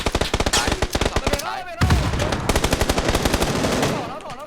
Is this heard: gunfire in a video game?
yes